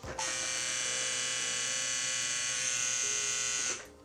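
A tattoo machine fitted with a Da Vinci cartridge needle runs alone in a steady, high-pitched electric buzz for several seconds at an even level, then stops abruptly.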